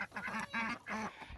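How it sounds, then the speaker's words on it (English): Several ducks quack in quick, nasal bursts, close by and fairly loud, with short pauses between calls. "And there's our duckies."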